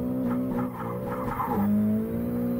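A Nissan 180SX in Assetto Corsa slides with no traction left, its tires squealing in a sustained skid over the steady drone of the engine, with rhythmic pulses as the car wobbles through the slide.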